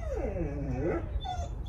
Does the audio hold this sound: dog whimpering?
yes